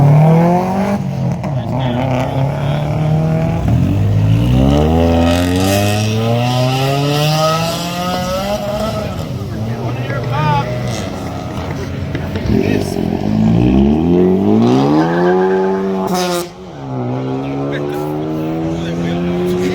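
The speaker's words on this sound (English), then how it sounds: "Bro, Enrique, it sounds like your car." A car's engine revs and roars up close at a car meet with roll racing, rising and falling in pitch over repeated throttle pulls, while people talk nearby.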